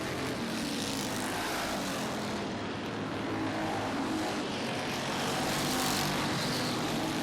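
Thunder Cars race at Barrie Speedway on opening night, engines roaring loud and continuous as the pack passes close, with a dense, steady drone swelling slightly near the end.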